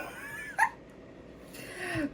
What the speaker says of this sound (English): With that burp, I promise you I could have blew some birthday candles out.